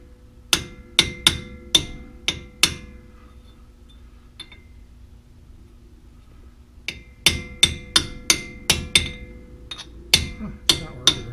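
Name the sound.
hammer striking a pipe to remove a brake rotor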